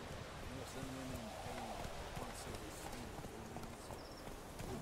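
Horse hooves clip-clop steadily on the ground in The Witcher 3 open-world video game, a continuous trotting rhythm over a noisy background bed, with someone talking over it.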